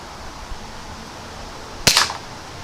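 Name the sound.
Umarex Buck Mark air pistol firing Sig Sauer match pellet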